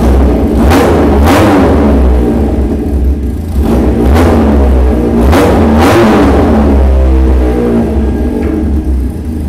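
A dual-cylinder 300cc oil-cooled motorcycle engine revs repeatedly in loud bursts over a deep idle rumble, close by, each rev rising and falling in a rhythmic pattern.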